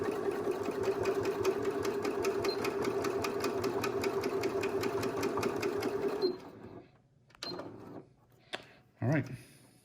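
A domestic sewing machine runs steadily backstitching a fabric face mask, a fast even stitching rattle that stops after about six seconds, followed by a few soft clicks and handling noises.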